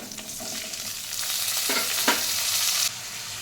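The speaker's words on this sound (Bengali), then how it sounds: "এবার আমি আলুটা ছেড়ে দেব।" Potatoes go into hot oil already seasoned with dried chilli, bay leaf, cinnamon and cardamom, and the frying swells into a loud, close, steady sizzle with a couple of stirring knocks before it drops back.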